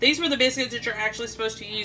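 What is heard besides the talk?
No everyday noise stands out behind the speech.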